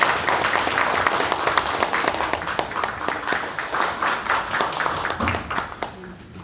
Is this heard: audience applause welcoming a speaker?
yes